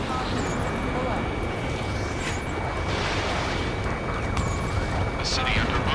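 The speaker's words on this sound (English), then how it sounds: "Gunfire and the roar of jets echoing from the streets" Ace Combat 7 combat over a city under martial law: a dense, constant roar of jet engines mixed with rumbling gunfire and blasts, loud and continuous with speech over it.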